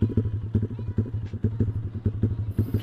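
A motorcycle with an aftermarket Proliner exhaust idles with a deep, lumpy, uneven pulse, tuned rich around 1700 RPM, loud, close by and running steadily throughout.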